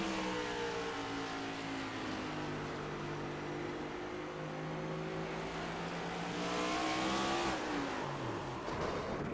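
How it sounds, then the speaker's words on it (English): A 750-horsepower Next Gen Series race car at Five Flags Speedway revs steadily, its engine pitch climbing and dropping as the RPM shifts, loud and continuous throughout with a sharper rise near the end. "You could hear the RPM change there."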